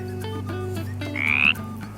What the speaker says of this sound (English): The frog cleared his throat. Princess Poppy, He croaked